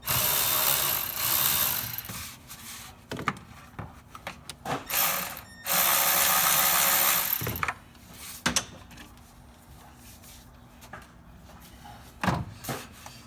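A ratchet loosens the intake clamps on a Ford 6.2 engine. Two loud, close runs of rapid clicking are followed by scattered clanks and light tool handling.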